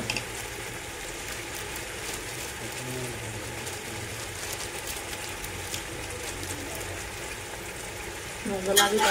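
Vegetables and spices frying in oil for khichdi give a continuous soft sizzle with occasional stirring scrapes, growing louder and busier at the very end.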